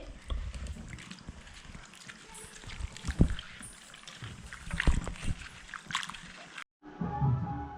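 Soaked bitter gourds being washed in water, with sloshing, splashing and pouring sounds close by at moderate level, briefly cut off near the end before resuming.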